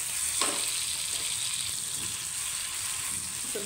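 Finely chopped ginger roasts in a pan with a soft, continuous sizzle, faint and steady at a moderate distance, with one brief clatter near the start.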